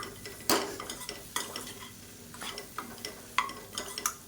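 Beans are stirred and sautéed with gram flour in a pan, a spoon scraping and clinking in several sharp strokes over a soft, steady sizzle, close and fairly loud with no voices.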